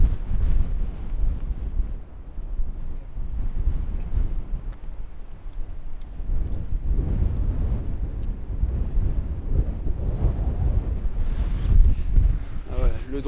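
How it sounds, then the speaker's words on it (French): Strong wind roars steadily across the microphone in a snowy winter outdoor setting near Geneva, Switzerland, with gusts buffeting throughout and a few voices faintly underneath. "Le vent vient de derrière."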